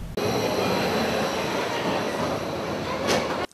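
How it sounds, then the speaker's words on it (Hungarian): A train arriving at Siófok railway station by Lake Balaton, giving a loud, steady rumble of wheels and carriages that runs continuously, with a brief higher squeal near the end before it cuts off. "Folyamatosan érkeztek a vonatok a siófoki vasútállomásra hétvégén."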